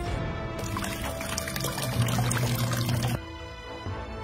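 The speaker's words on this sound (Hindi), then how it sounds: "डाल पानी।" Water poured from a container into a glass makes a continuous splashing, gurgling stream for about two and a half seconds, then stops abruptly, leaving quiet room tone.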